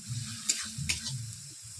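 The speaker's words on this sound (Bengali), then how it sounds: "মশলাটাকে এইভাবে 5 মিনিট আমি কষিয়ে নিচ্ছি।" Spice paste for rohu fish curry is sautéed in a pan with a soft, low sizzle and two quick scraping strokes of a spoon, brief and fairly quiet.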